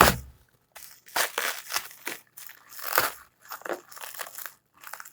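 Close, rustling tears and crinkles of parcel packaging come in repeated bursts with short pauses, the parcel being pulled open with effort.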